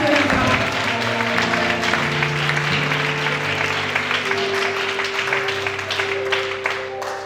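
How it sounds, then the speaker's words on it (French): A church congregation applauds for Jesus after a testimony, with loud sustained clapping and crowd noise over held organ or keyboard tones, easing off slightly toward the end. "Acclamons pour Jésus"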